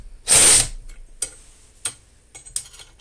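A Thorsen ratchet wrench from the 1980s makes a short burst of rapid clicking up close, followed by a few sparse single ticks and light mechanical clicks in a quiet room.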